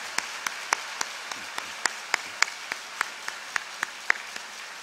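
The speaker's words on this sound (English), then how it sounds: "give another round of applause to all our family members and friends who are here to support us on this momentous occasion" Sparse, scattered handclaps from family and friends in the audience at a 2014 law school commencement ceremony, a dozen or so distinct claps spread unevenly over several seconds, fairly quiet with no talking.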